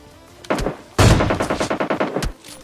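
Gunfire in the video game PUBG Lite: a single loud shot, then a rapid burst of about a dozen evenly spaced close shots, ending with one more report.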